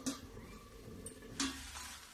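Carrot halwa made from fresh village carrots is stirred in a pan, with two brief scraping strokes about a second apart over a faint simmering sizzle. The sound is quiet and has no voices.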